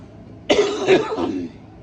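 A short burst of coughing from a viral chest infection, two or three harsh coughs close to the mic, after a brief quiet moment.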